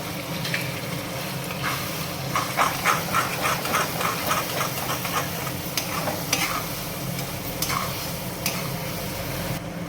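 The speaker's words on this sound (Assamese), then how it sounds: "এতিয়া ঠিক মছলাখিনি অকণমান আমাৰ ভাজি হৈছে" Cumin, coriander powder and meat masala sizzle and fry in a pan while a utensil stirs and scrapes intermittently, close and moderately loud.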